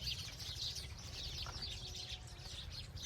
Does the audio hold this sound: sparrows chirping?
yes